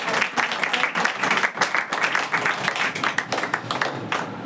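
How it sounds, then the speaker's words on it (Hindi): A church congregation bursts into loud, sustained clapping, dense and steady for several seconds with no voices over it. "आइए हम यीशु के जोर से ताली मारें"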